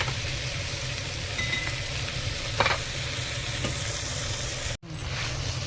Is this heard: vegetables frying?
yes